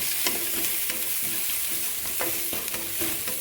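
Onions sautéing with salt in a pan for tomato chutney, a constant bright hiss of frying with regular clacks of a spatula stirring, near and fairly quiet, no voices.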